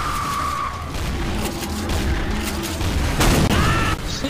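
Gunfire and explosive booms from Left 4 Dead 2 on the Wormwood map fill the mix in dense, overlapping bursts at steady loudness, with brief tonal game effects layered in and no speech.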